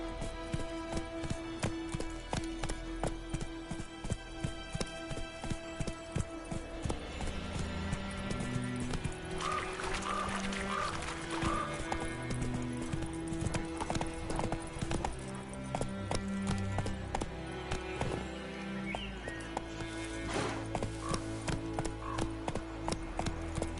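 Roach, the horse in The Witcher 3, gallops with a steady, fast clip-clop of hooves that runs close and prominent throughout, with game music and effects underneath.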